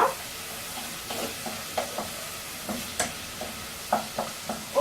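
A spoon stirs arrabbiata sauce in a pan, sending soft repeated scrapes and knocks at an irregular rhythm over a low sizzle, close by with no talking.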